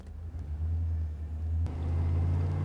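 A large truck, apparently pulling a trailer, drives up a driveway with a steady low engine rumble that grows slightly louder and heavier partway through, close and continuous with no talking.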